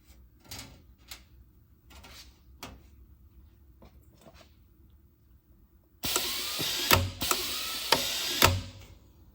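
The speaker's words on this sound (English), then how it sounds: "You have to adjust the height of this to give you the right amount of pressure on the rivet to squeeze it." A rivet squeezer presses small nut plate rivets on a Carbon Cub EX3 removable boot cowl. Faint clicks and taps give way to a sudden loud airy hiss, broken by several sharp mechanical clacks.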